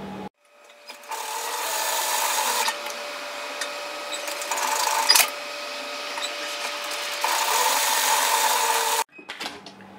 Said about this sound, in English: So we're going to sew 2 rows.